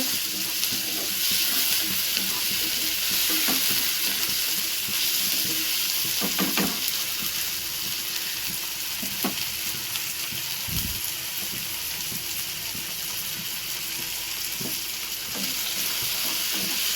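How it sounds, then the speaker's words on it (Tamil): Onion, tomato and ginger garlic paste sauté in a pan with a steady, loud sizzle and fry hiss throughout, broken by occasional clinks and scrapes of stirring, with no talking. "வெங்காயம் தக்காளி இஞ்சி பூண்டு நல்லா வதக்கிக்கோங்க"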